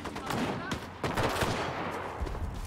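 Machine gun with a bayonet fitted firing in the World War II shooter game Enlisted, a few close bursts of shots with some background game noise.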